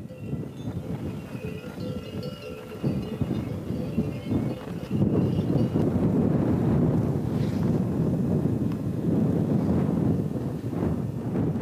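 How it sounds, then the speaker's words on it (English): Strong wind at a mountain base camp buffets the microphone in a continuous rumbling roar that swells louder midway and stays gusty to the end, with no voices. "It was windy down at base camp, though. You can definitely hear the wind."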